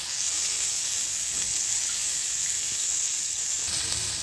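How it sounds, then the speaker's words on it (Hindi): Chopped onion sizzles in hot oil with crackled cumin seeds, the first step of an achari sweet potato dish: a steady, bright hiss of frying that runs evenly throughout, fairly close, with no talk. "जीरा तड़क गया, अब डाल देंगे प्याज।"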